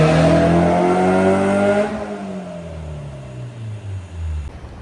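Honda S2000 engine on a dyno, a loud high-pitched rev climbing then easing off, the tone falling and rumbling down as the run winds to a stop.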